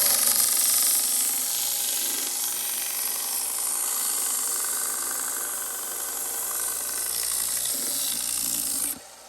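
A small belt sander grinds a marker tip to a sharp point for marking sheet metal, a steady close abrasive whir with gritty rasping that holds for about nine seconds before cutting off abruptly.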